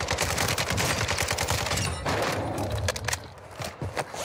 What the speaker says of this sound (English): Look who's sniping at me.